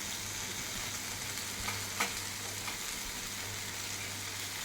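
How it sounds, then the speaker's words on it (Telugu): Chopped tomato pieces are stirred into a sizzling sour stew of brinjal, moringa and raw mango, a steady close frying hiss with faint spoon scrapes and no talk. "టమోటాలన్నీ ఒకసారి కలిపి"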